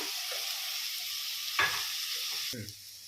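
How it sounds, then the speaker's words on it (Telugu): Chopped medium tomatoes drop into a pan of frying ivy gourd curry, giving a steady sizzle with a brief clatter midway and a soft stirring scrape near the end; no one speaks. "ఇగో 6 టమాటాలు, మీడియం సైజ్ టమాటాలు ఇలా వేసుకోవాలన్నమాట."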